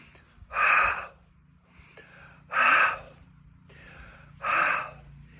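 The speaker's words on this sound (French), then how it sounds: "Ceci est accompagné avec une respiration qui doit être audible, comme ceci." Three deliberate, audible breaths at even intervals during a breathing exercise before ballet barre work, each a short, forceful airy rush, close and clear against a quiet background.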